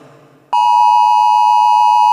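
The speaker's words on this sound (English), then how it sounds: "I'm getting an emergency alert on my phone" A phone's emergency alert sounds as a loud, steady electronic tone that starts abruptly after a quieter, muffled stretch and holds continuously to the end.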